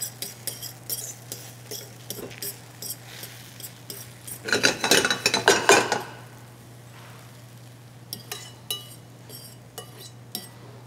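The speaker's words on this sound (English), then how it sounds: "my butter is a little bit foamy, so that's my sign that it's time to add the eggs" Eggs hitting foamy butter in a stainless steel pan for a French omelette: light clinks and scraping at first, then a louder burst of sizzling and stirring for a couple of seconds, fading to quieter intermittent taps and clinks.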